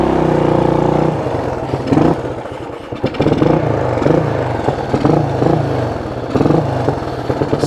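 Honda XL175 dual-sport motorcycle engine running close by in deep snow, a steady mid-pitched drone that shifts into uneven throttle blips and clattery pulses, with no voices.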